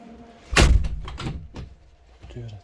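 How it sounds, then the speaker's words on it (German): A cab door on a BR 193 Vectron locomotive swings shut with one loud, close thump, followed by a few lighter knocks and rattles as it settles. "Tür zu."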